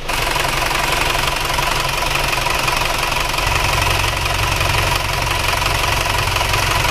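A Yamaha Panther car engine idles steadily with a dense, constant rumble and mechanical knocking, loud and close, with no voices; the engine runs rough and smokes from the oil dipstick.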